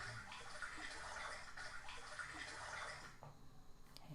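A small stream of water trickles steadily and faintly, a soft continuous rush with light splashy texture that eases slightly near the end.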